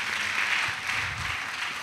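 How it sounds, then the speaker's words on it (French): An assembly at an annual missionary retreat in Côte d'Ivoire breaks into sustained applause, a steady, dense wash of clapping from a crowd with no clear speech. "Acclamation."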